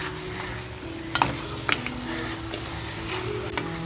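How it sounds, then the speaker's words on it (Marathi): Mutton pieces frying over a full gas flame in a hot pan, giving a steady, close sizzle with a couple of brief scraping stirs partway through. "मटण आपल्याला व्यवस्थित असं हे फ्राय करून घ्यायचं आहे।"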